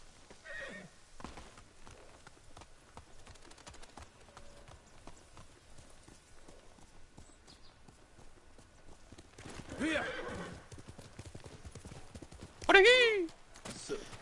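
Steady clip-clop of horse hooves trotting in the video game Ghost of Tsushima, with a horse's whinny near the end and a person talking in the background.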